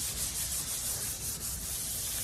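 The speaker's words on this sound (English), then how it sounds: "Go over the whole thing with the sander, kind of overlap it, and it'll blend it in so it's smooth." A power sander works over fiberglass trim on a wooden teardrop camper, giving a close, continuous abrasive hiss and rub without pause and with no talking.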